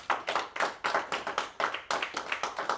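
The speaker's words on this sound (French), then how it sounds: "Applaudissons pour Jésus." A church congregation claps in rhythm, sharp repeated hand claps landing at a quick steady beat, fairly close and loud with no talk over them.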